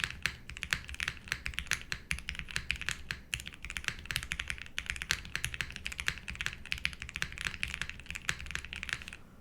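Fast, steady typing on a Sonnet mechanical keyboard with a polycarbonate case, a close, dense clatter of crisp keystrokes with no talking.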